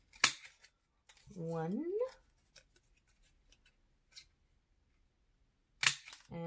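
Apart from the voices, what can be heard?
scissors cutting out paper envelopes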